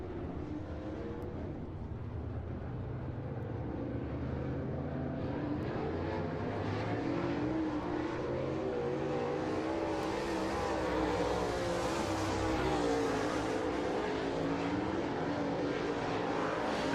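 Lucas Oil late model race cars on the speedway at Fairbury, Illinois, heard as a continuous distant roar of engines, rising and falling steadily across the whole stretch with no talk.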